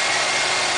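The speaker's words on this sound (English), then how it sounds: "now the engine's running. It's just idling" A car engine idling steadily just after its ignition module was replaced, a continuous close, even mechanical hum with no speech over it.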